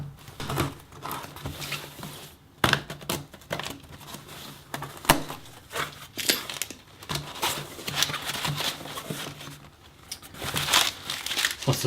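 Paper packaging being unwrapped from a newly delivered Sony A6500 camera, close and busy crinkling with sharp rustles and tearing bursts that come and go for several seconds, and no talking over it.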